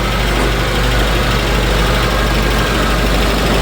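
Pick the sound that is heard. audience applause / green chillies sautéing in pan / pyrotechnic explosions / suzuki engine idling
suzuki engine idling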